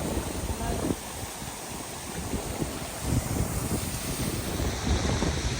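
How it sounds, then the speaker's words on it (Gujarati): Cold wind buffeting the microphone near a waterfall in the UK, a loud continuous rumbling roar with gusty swells and a steady wash of falling water behind it. "પવન બહુ ઠંડો છે"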